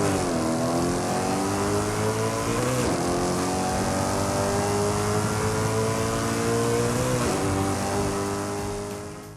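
A 2002 BMW M3 GTR race car in the video game Forza Horizon 5 at Lighthouse Circuit, its engine droning loudly and steadily at high revs, with pitch rising through the gears and two brief dips at gear changes.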